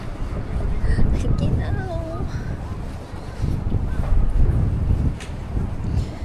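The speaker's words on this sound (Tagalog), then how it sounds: "Mukha lang maaraw, pero yung hampas ng hangin" Strong wind gusts buffet the microphone outdoors on a sunny day in a busy sightseeing area, a loud, low, rumbling roar that swells, dips briefly midway, then surges again.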